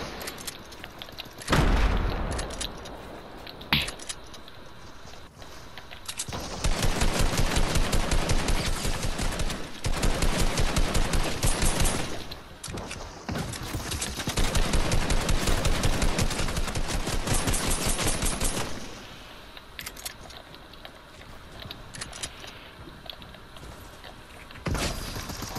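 Rapid gunfire and heavy blasts from a charge shotgun in the video game Fortnite, loud sustained bursts of shots broken by short pauses, with booming impacts and game effects throughout and no talking.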